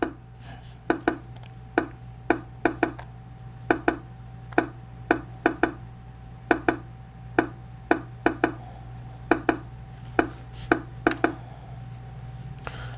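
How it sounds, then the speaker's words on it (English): A thick, punchy kick drum sample in a beat, repeating in a steady pattern of short sharp hits over a low sustained hum, with no voices. "So this is what the kick sounds like."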